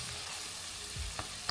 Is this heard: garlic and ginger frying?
yes